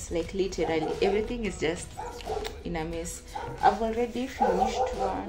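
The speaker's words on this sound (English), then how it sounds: "That's the dog barking out there." A dog barks outside, somewhere beyond the room, its yips and bow-wows half buried beneath a woman's steady, stressed talking that runs through the whole stretch.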